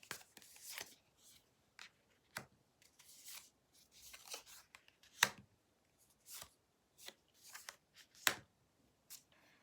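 Tarot cards riffled and drawn one by one during a reading: soft, scattered card slaps and flicks with brief sharp snaps, close and quiet, with no talking.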